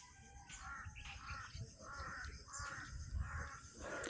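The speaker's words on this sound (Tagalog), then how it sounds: "Ang maririnig nyo na lang po dito ay mga huni ng ibon at yung mga uwak na yan" Crows caw in repeated bursts, one or two at a time, over faint birdsong and soft background noise on quiet Philippine farmland, about two hours from Manila.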